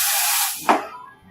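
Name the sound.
espresso machine steam wand hissing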